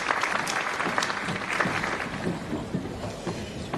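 Dense applause from a crowded audience at a public event, a continuous wash of many hands clapping at steady loudness throughout, with no voices over it.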